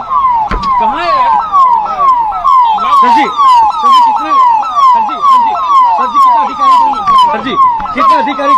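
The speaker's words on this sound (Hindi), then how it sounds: "सायरन बजाती हुई ये गाड़ियों को अब आप यहाँ पर देख रखे हैं" Police vehicle sirens wail loudly and close, a rapid repeating up-and-down yelp that runs without a break, with engine rumble and faint voices underneath.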